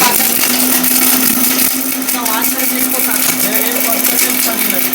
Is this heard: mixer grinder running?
yes